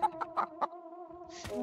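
Video game chicken clucking as it lays an egg mid-jump: three or four quick, close, nasal clucks over a steady tonal hum, ending in a short noisy burst, with no talk.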